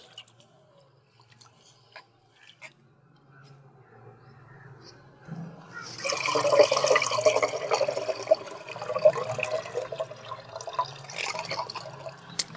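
White sorghum grain is rinsed in water by hand: after a quiet start with faint drips, close sloshing and swishing of grain and water begins and continues unevenly.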